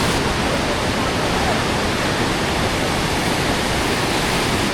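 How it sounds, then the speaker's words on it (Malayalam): A fast-flowing mountain river in Kashmir, on the Srinagar–Kargil route, rushes under a bridge with a loud, unbroken, hissing roar that fills the whole stretch. "അയ്യോ എന്തൊഴുക്കാൻ നോക്ക് ശരിക്കും കുത്തി ഒലിച്ച് വെള്ളം വരുന്ന പോലെ അല്ലേ"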